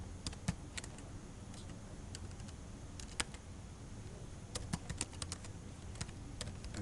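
Keys tap on a computer keyboard in scattered short runs of light clicks close by, over a steady low hum, with no speech.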